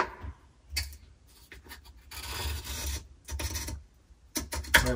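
Pencil strokes rasp across a camper flooring board in short bursts, close and quiet with brief pauses between lines.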